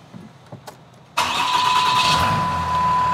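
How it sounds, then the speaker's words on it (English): A vehicle engine fitted with a PowerHalt PH3 air intake emergency shut-off valve cranks and catches after a moment of quiet, then settles into a loud, steady idle close by with no talking. "The first step in testing is to start your engine."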